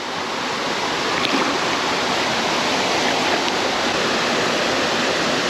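A waterfall pours into a plunge pool near a surf-fed stream inlet, a loud, steady, broadband rush of water that never lets up.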